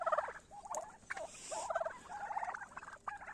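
A flock of turkeys of mixed breeds, red bourbon, black and broad-breasted white birds, gobbling on winter pasture, with repeated rapid warbling gobbles overlapping in quick bursts, moderately near and fairly loud, no talking.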